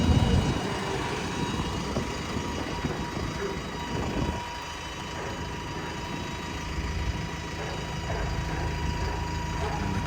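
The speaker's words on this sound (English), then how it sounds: "Train going past the other way." A train rumbles past a level crossing beside the Chesterfield Canal at Shireoaks, giving a steady loud roar of wheels and engine that eases slightly partway through, with no talking.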